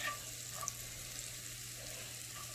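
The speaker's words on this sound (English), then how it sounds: "right now we're going to put our butter in" Butter melting in a pan over a low flame before a New York strip steak goes in, giving a steady, soft sizzle with faint crackles throughout, no voices.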